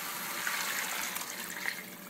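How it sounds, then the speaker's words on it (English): Water pours steadily into a cooking pot of seasoned oxtails, a continuous close gushing splash that holds an even level for about two seconds with no voices. "I'm going to add 4 cups of water,"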